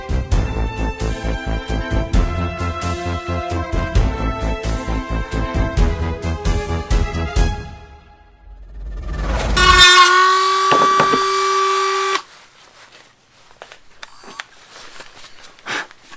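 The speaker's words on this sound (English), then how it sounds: "My trusty Dremel here, cleaning up the rest of the gauntlets." A Dremel rotary tool cleans up gauntlet parts, giving a steady, high-pitched whine for about two seconds. A long, dense stretch of other rhythmic sound comes before it, and quieter sounds follow.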